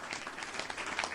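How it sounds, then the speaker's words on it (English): A crowd cheers and claps in a dark medieval fantasy execution scene, a dense wash of applause and voices filling a short burst with no pause. "said the Count to cheers and clapping."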